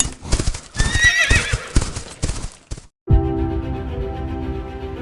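Horses ride along with brisk, loud hoof clip-clops in an uneven rhythm, followed by a long, sustained neigh that dominates the second half.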